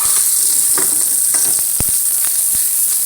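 Green onions crackling in hot oil in a pan, a loud, even hiss close up, dotted with sharp pops and a few light spatula taps, no talking.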